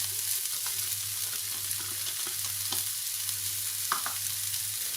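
Bell pepper and red chili frying in a pan as spring roll filling, giving a steady close sizzle with occasional stirring scrapes and clicks throughout.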